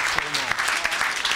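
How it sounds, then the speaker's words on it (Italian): Audience applause for a film presentation at New York University, dense steady clapping close by with voices mixed in over the short burst. "I want the last applause for Frank Monteleone again."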